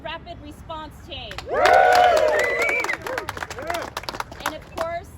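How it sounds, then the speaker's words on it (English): An outdoor crowd at a protected bike lane ribbon cutting on Telegraph Avenue in Oakland, California, gives scattered claps with whoops and cheers that swell into a loud burst, then settle back into lighter clapping and voices. "So let's give a round of applause to Bike East Bay."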